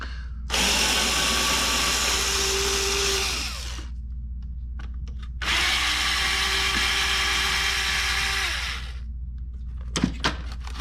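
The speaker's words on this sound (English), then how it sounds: "And then unscrew the jig." Power drill unscrewing a jig for a homemade spiral notebook: two loud, sustained close-up whirring runs of a few seconds each with a pause between, followed by a couple of small clicks.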